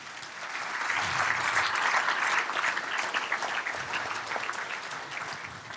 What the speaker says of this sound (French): Donc je crois que vous pouvez les applaudir bien fort.